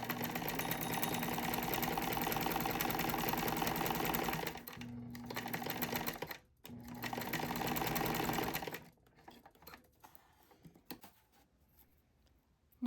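A sewing machine zigzag-stitches across three stacked pieces of elastic, running fast and steady for several seconds with two short pauses, then stopping and leaving a quiet rustle of fabric handling.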